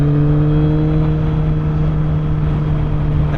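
A 2020 Suzuki GSX-S1000F motorcycle engine pulling in fifth gear at around 4,000 RPM, a loud, steady droning hum with strong tonal whine and wind rush, continuous throughout with no speech.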